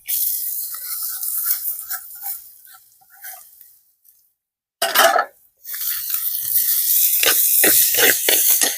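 Chopped banana flower is stirred in hot oil in a pan, a close steady sizzle and hiss with scraping stirs, broken by a brief pause and a sudden louder burst, then continuing loudly.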